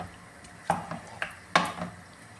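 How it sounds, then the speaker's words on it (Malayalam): A spoon knocks against a bowl a few soft times while yogurt marinade for chicken biryani is stirred, with quiet scraping between the taps. "ഇതെല്ലാം കൂടെ നന്നായിട്ടൊന്ന് മിക്സ് ചെയ്യാമേ"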